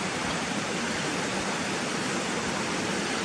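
A river at Gunnerside rushes in a steady, broadband wash close by the footpath, continuous and fairly loud with no voices over it.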